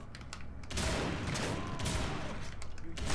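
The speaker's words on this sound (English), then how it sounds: "I like your buddy's getting shot in the freaking face with a shotgun" Gunfire in the shooter Crysis, with a rapid volley of loud, blunt shotgun-type blasts and ringing impacts layered close together through the moment.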